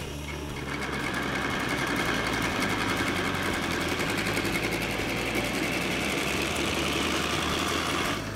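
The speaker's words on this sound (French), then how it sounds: "On entraîne le moteur Stirling avec un moteur électrique." A homemade Stirling engine built with syringes runs while driven by an electric motor, giving a fast, steady mechanical whir and rattle that starts up and holds constant throughout, with no talking.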